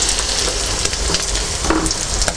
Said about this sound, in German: Sie gehen in die Fritteuse rein, damit nicht so viel abfällt.